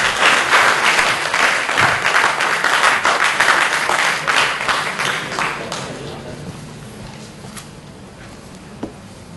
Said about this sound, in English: I request all of you to please welcome with a round of applause.